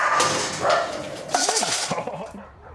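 Rescued puppies, taken from illegal sellers and kept at a shelter, yip and whimper in short bursts close by, mixed with a person speaking over them.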